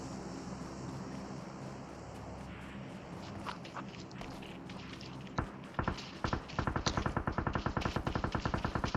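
Gunfire in the battle game PUBG Mobile, starting with a few separate sharp shots and building into a rapid automatic burst of loud, evenly spaced cracks over a steady background hiss.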